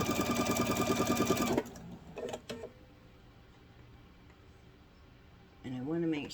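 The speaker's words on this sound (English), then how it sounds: "I'm going to sew all the way to the other edge." A sewing machine stitches along the edge of a fabric grocery bag in a fast, rhythmic whir for about a second and a half, then stops. A voice speaks afterward.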